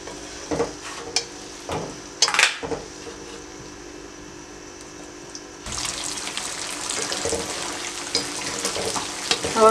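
Chickpeas fry in hot oil over a full flame, a steady sizzle that grows denser and louder halfway through, with a few sharp clinks and scrapes of a utensil near the start.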